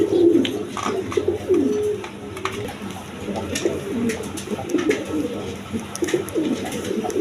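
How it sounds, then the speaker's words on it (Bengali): Big-size Lahori pigeons coo in repeated low, throaty phrases, several calls overlapping close by with brief pauses between them. "একদম বিগ সাইজের লাহরি কবুতর"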